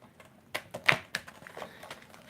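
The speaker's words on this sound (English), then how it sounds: "Do some shuffling. Some more shuffling." Tarot cards being shuffled by hand: a short series of crisp, quiet riffling taps and flicks, close and irregular, with no talk.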